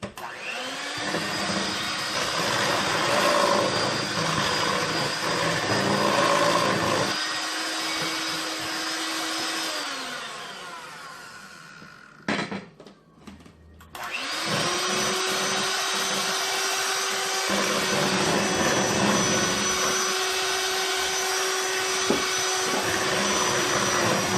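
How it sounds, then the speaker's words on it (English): Electric hand mixer whirring steadily through cinnamon roll dough, loud and close, pausing briefly midway before starting up again at full speed. "matter of fact, I'm just gonna use a mixer, much easier."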